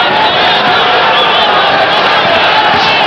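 A partisan crowd in Boston roars steadily through a Marvin Hagler versus Willy Warren boxing bout. The dense, loud wall of cheering and shouting holds at one level, with a few whoops rising out of it.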